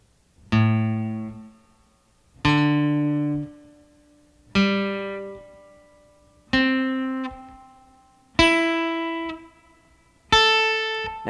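Six clear plucked guitar notes played with the fretting finger pressed flat, each ringing out and decaying at steady two-second intervals, the pitch stepping upward across the sequence, played alone with no talk.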